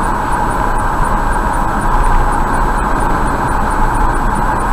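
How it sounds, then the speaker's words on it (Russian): Loud, steady road traffic at a truck stop parking lot on the R297 highway, with cars and trucks arriving, engines rumbling close by and a constant drone; no voices. "Стоянка шумная, в том плане, что очень много подъезжает автомобилей, в том числе и легковых."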